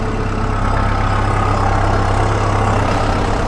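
New Holland tractor fitted with an autopilot steering system, its engine running loud and close as a constant low droning hum with no talk.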